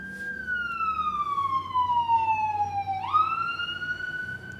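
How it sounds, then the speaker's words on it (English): A siren wails steadily, sliding slowly downward in pitch before jumping back up, heard from a distance over a low background rumble. "I do not control that there are sirens outside"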